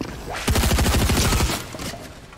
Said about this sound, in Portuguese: O cara me atirou, mano.